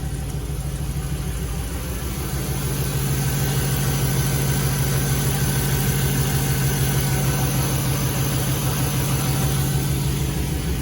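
A 1984 Jeep CJ7 with a fuel-injected LS 5.3L V8 idles smoothly and steadily, a close, even low rumble with no revving.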